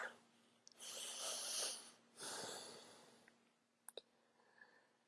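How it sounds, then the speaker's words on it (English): Someone does a shallow breathing exercise in a communication skills class: two long, airy breaths that rise and fade, followed by a few faint clicks in an otherwise quiet room. "Take shallow breathing, not deep breath."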